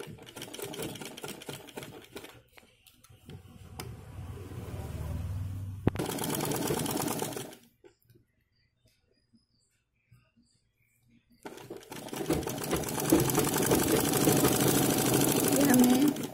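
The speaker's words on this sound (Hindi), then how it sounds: "इसको भी हमें सिलाई कर देना है।" A sewing machine stitches a blouse in bursts of steady close whirring, first around the two-second mark and again from about six to seven and from eleven seconds on, separated by quiet gaps.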